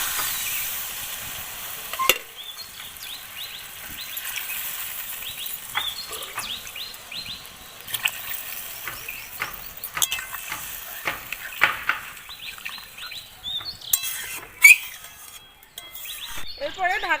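Potatoes with spices stirred in a pan for a village-style potol chingri (pointed gourd and prawn) dish, giving a steady sizzle with scraping stir strokes and clinks throughout, moderately close.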